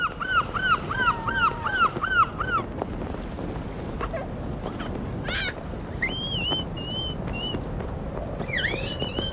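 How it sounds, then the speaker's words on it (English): A seagull at the seaside gives repeated short, squealing calls in two bursts, clear and fairly close over a soft outdoor background. "The seagull."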